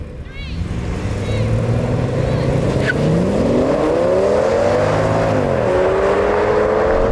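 Audi S8 cars accelerating hard in a drag race, engine note climbing steadily through rising gears with a brief shift dip, loud and close, while someone talks over the roar.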